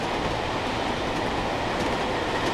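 A moving BR Class 86 locomotive with Mk2f coaches in Train Sim World 6 produces a steady, dense rolling rumble and wheel noise, loud and continuous with no voices.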